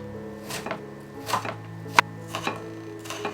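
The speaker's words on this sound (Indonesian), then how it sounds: "Dengan mengiris tipis seperti ini, bawang bombaynya akan mudah terpotong jadi lebih kecil" A knife thinly slicing an onion on a cutting board for a meat-filled bread recipe, with sparse single cuts and a sharper knock near the middle, close and clear with no talk.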